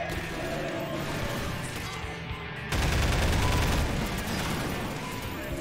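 Dense gunfire with exploding rounds in the game Half-Life 2: Episode Two: a steady roar of shots and blasts that jumps louder midway, sustained and close without pause.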